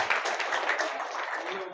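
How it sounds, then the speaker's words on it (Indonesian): Audience applause at a business seminar, a continuous even patter of clapping at moderate level, fairly distant, with no speech on top. "Tepuk tangan dong buat HNI."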